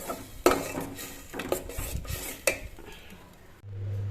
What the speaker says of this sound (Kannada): ಮಸಾಲೆ ಎಲ್ಲ ಒಂಚೂರು ಎಣ್ಣೆಯಲ್ಲಿ ಫ್ರೈ ಮಾಡ್ಕೊಳ್ತೀನಿ